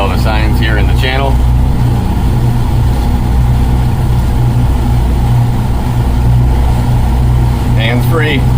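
Yamaha outboard motors on a Contender boat run steadily under autopilot, a loud continuous low engine drone up close, with wind and water noise and a voice speaking over it.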